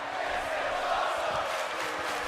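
Hot crowd at a live NXT women's tag team title wrestling match, a dense, steady roar of cheering and shouting that fills the space without letup.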